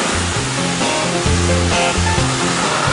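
A high-pressure water jet blasts stubborn dirt or graffiti off a surface in a steady, loud, continuous hiss, with background music playing underneath.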